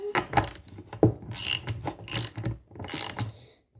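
A wrench ratchets a nut down onto a skateboard wheel's axle bolt: close, crisp clicking in three or four quick bursts, each a run of rapid pawl ticks separated by short pauses.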